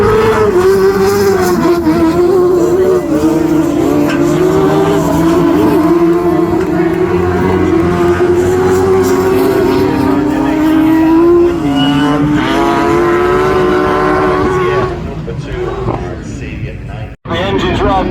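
Autograss racing cars roar around a dirt track at a national meeting, engines loud and sustained with shifting revs for most of the stretch before fading near the end, while a commentator talks over them.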